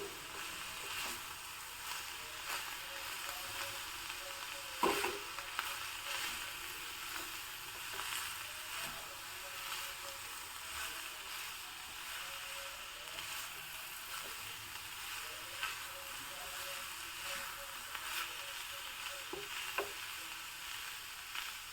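Boiled chickpeas and grated coconut frying in a pan, giving a steady, soft sizzle that runs throughout with a few faint stirring scrapes, and no voices.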